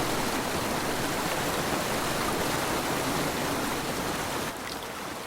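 A river runs through a Japanese macaque troop's territory on Honshu, its water rushing in a steady, dense wash that holds at an even level throughout, easing slightly near the end, with no voices.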